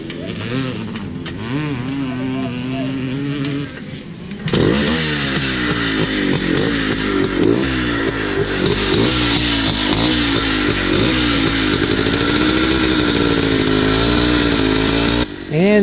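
An old dirt bike, a Yamaha YZ400 bored to 490, revs hard and races, its engine rising and falling close by, then roaring louder and steadier for a long stretch before cutting off at the end.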